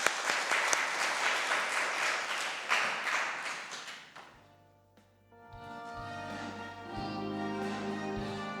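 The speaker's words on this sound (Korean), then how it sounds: "박수로 맞이하겠습니다." Church congregation at a Wednesday worship service applauding, a full sustained round of clapping that fades away, followed by soft instrumental music with a low bass line coming in.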